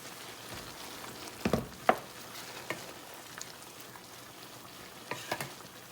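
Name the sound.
mixing rice with tahini in frying pan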